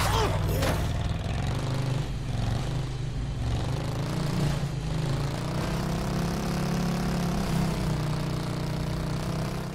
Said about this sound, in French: Il nous a donné la super moto.